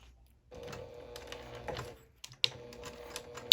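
A sewing machine runs slowly through thick fabric on a back stitch while sewing a small circle wristlet bag, short bursts of low mechanical whirring with brief pauses and a couple of sharp clicks, close and quiet.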